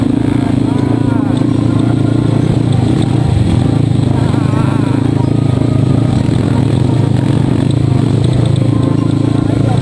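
A motocross motorcycle engine drones loudly and continuously at close range with rough revving, while voices talk over it.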